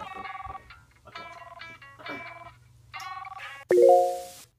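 A cartoon telephone rings in a children's show. Bright, repeated electronic tones come in four short bursts, then end with a sharp, louder chime. No voices are heard.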